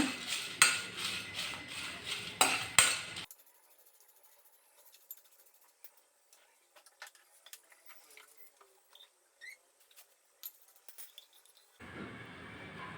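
Amla (Indian gooseberry) roasted in a pan for saru, with a loud burst of rattling and stirring at first, then quiet scattered taps and clinks of a spoon, and another rush of stirring noise at the end.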